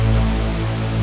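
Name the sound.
Kontakt instrument sound through compressor and limiter effect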